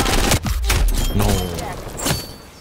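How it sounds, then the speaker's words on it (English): Hip-fired gunshots from an LC10 in Call of Duty Cold War ring out as a loud, dense burst with sharp cracks and thuds, mixed in with other game sound. "out of bullets, he's just hip firing"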